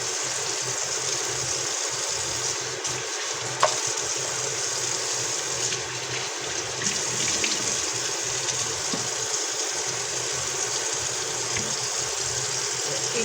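Tap water running steadily over dishes to rinse soap off in a kitchen sink, a continuous rushing stream with a low motor-like hum beneath and occasional small clinks.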